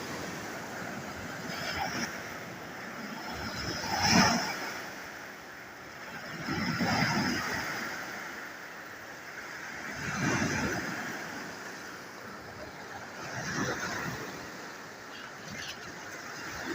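Tidal bore waves surge along the Ganges river, with broad rushing swells of water rising and falling about every three seconds against steady wind noise and no voices.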